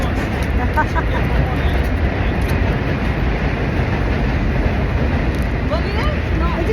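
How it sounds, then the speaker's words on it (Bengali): A train passing in Jackson Heights, New York, a steady broad rumble with rail clatter throughout, fairly loud and continuous, with faint street voices mixed in. "গাড়ি গাড়ি ট্রেন ট্রেন যাচ্ছে"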